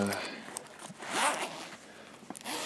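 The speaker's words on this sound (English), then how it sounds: "the zipper's worn, so it unzips really easily." A worn zipper on a repaired denim-patched backpack unzips in one quick rasping pull near the middle, with soft handling rustles and a voice speaking around it.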